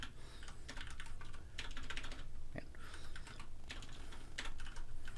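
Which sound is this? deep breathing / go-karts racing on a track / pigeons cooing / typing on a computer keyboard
typing on a computer keyboard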